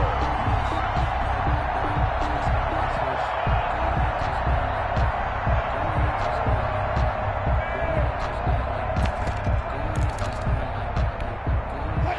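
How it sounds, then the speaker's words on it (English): Stadium crowd at an American football game, a broad, continuous roar of cheering and scattered whoops under a commentator's steady play-by-play talk throughout. "Crowd getting in it a bit already"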